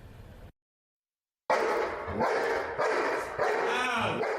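Trained protection dog at a canine academy barking loudly and continuously during an attack demonstration, a rapid string of close, harsh barks after a brief cut to silence.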